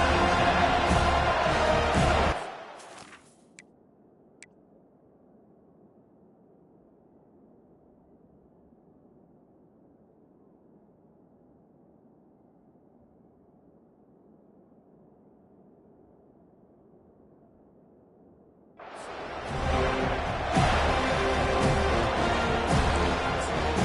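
Stadium crowd in College Football 25, Florida at Florida State, roars loud and broad, drops to a low murmur for a long stretch, then surges back to a full roar.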